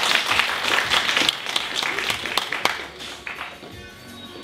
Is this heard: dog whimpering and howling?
no